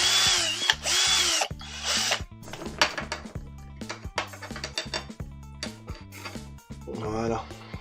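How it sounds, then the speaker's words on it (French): Small screws holding the cables on a Renault 4L light being removed with a small power screwdriver, giving several short whirring bursts with clicks and handling noise in a workshop. "il faut dévisser les deux petites vis qui retiennent les câbles"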